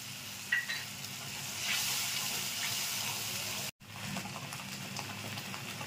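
Onion paste, garlic and green chilli hit hot oil in a pan for a fish curry, setting off a steady close sizzle that swells, cuts out for a moment, then resumes as frying continues.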